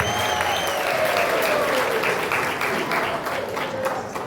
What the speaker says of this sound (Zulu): Anishaye ihlombe ngemisebenzi yakho Babu Sope.